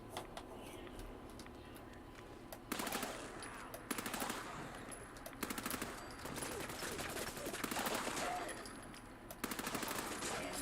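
Gunfire in Fallout 4, several separate bursts of rapid automatic shots spaced a second or two apart over a low ambient background, moderately loud and without talk.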